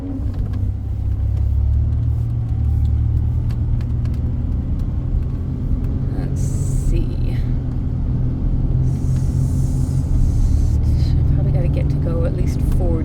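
A 2002 Ford Explorer SportTrac drives along at steady speed, with a continuous low engine and road rumble throughout and brief bursts of higher noise partway through.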